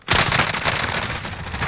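Gunfire in an online battle-royale shooter match: a sudden loud burst of rapid automatic shots that starts abruptly and keeps rattling densely for nearly two seconds, close and without any talk.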